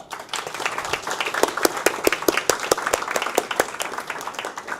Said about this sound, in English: Give them a great applause.